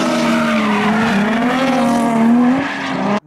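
Nissan 350Z drifting with tires skidding, a loud sustained squeal over a droning engine note that wavers in pitch, then cuts off abruptly at the end.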